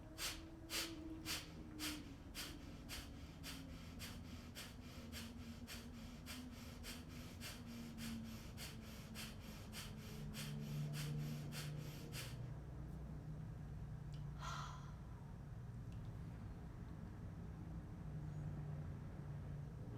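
Rapid, forceful rhythmic exhalations of Skull Shining Breath, a yogic breathing exercise, pumping in a fast even train for about twelve seconds, then stopping into quiet breathing with a faint background hum.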